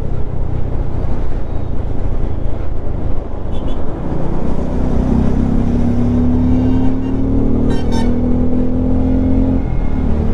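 A car cruises on a highway at around 90 to 100 km/h with a loud, steady road and wind roar. A faint tonal hum runs midway through, with brief clicks near the end and no talk.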